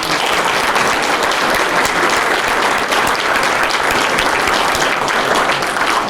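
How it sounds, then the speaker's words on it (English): An audience at a town State of the Town address luncheon gives a big, sustained round of applause, loud and dense clapping holding steady throughout with no talk over it. "let's have another big round of applause"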